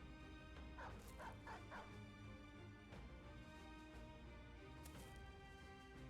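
Dog barks and yips from the video game Battle Brothers, a few short repeated yelps early on, set against a steady, loud game soundtrack and effects.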